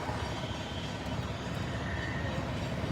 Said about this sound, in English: I hear a helicopter above.